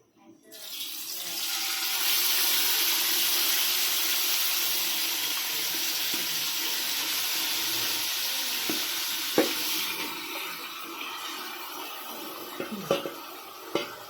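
Marinated chicken drops into hot oil, setting off a loud, close sizzle that swells quickly and keeps hissing steadily, with a few knocks and scrapes of a utensil toward the end.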